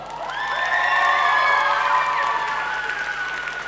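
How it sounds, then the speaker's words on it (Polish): A crowd at the 2020 young talents showcase cheers and whoops loudly for the technical crew, with high voices rising together and holding for several seconds. "Wielkie brawa dla nich"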